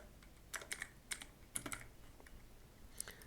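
Several quick bursts of keystrokes on a computer keyboard, close and crisp, in short irregular clusters separated by brief pauses.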